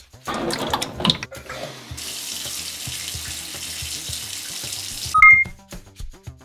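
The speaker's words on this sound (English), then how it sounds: "see how easy it is to give a bearded dragon a bath" Water runs steadily from a tap into a bathtub, filling it for a bearded dragon's bath, for about three seconds, with some handling noise before it and a couple of short beeps as it stops.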